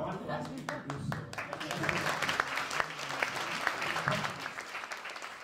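An audience at a formal gathering with dignitaries present claps together in sustained applause, many hands at once with some sharper individual claps, and a few voices murmur underneath.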